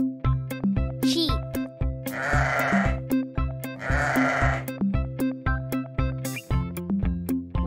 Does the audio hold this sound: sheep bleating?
yes